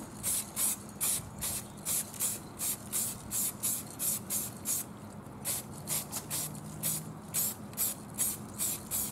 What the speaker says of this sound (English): just spray a coat of primer, just a rusty red color